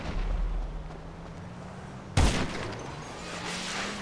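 Rocket explosion in a chaotic GTA 5 Online session: a single sharp, loud blast bursts in midway, followed by a rumbling tail, set against quieter game ambience.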